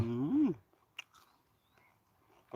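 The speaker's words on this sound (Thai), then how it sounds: "โอ้เสียงหยำกรอบเลยครับ" A fresh raw carrot just pulled from the ground is bitten and chewed, giving a few soft, close crunches after a brief vocal sound at the start.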